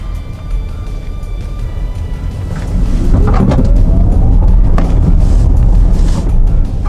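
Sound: Zeekr 001 electric car accelerating

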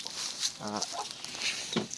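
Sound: chickens and newborn chicks

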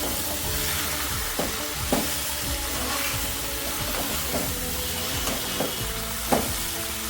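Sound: stirring cabbage sabji with garam masala and coriander in pan

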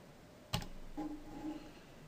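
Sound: typing coordinates on a computer keyboard

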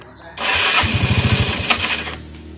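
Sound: Yamaha Fino scooter engine starting

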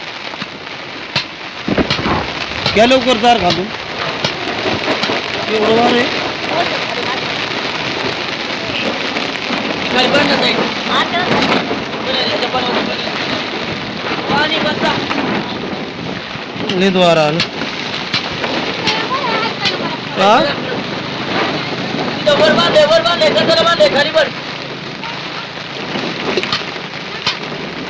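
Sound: heavy rain and thunder on a mountain

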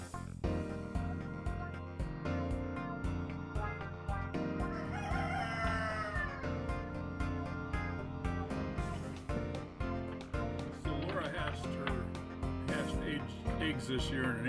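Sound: roosters crowing

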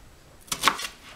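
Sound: knife chopping a yellow onion

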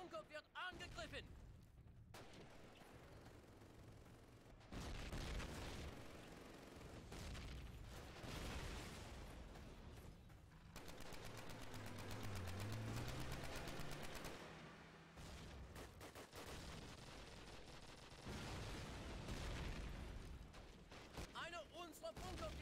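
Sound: grenade explosion and gunfire in Call of Duty video game

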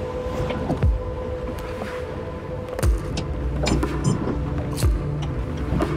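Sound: boat engine running at sea

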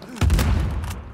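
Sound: grenade explosion and gunfire in video game Uncharted 4

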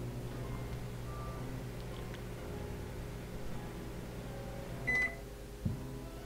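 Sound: microwave oven running, from a puzzle video game

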